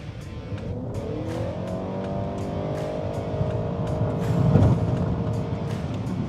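A Honda Accord in sport mode accelerates hard, its engine note climbing steadily in pitch and growing louder as speed builds, with a steady tire and road roar underneath and no talking.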